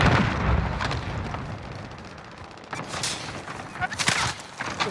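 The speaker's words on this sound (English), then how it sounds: "Cluster strike away." Cluster strike in Call of Duty: Warzone: a rapid string of close, loud blasts, with one burst early and more clustered bangs near the end, and some radio chatter underneath.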